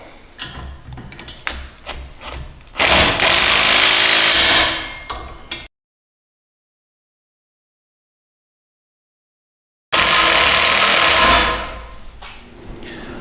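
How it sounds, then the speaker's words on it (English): Impact wrench tightening flange nuts on an ArmorTech game loader for a 2016-or-later Can-Am Defender, with two loud sustained bursts of hammering, separated by a silent gap and preceded by lighter tool clatter. "Now we can grab our impact and our 9/16 wrench and tighten these flanges down."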